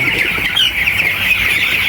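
Broiler chickens on a poultry farm in winter give a continuous close chorus of high squawks and cheeps, loud and unbroken for the whole moment, with no talking.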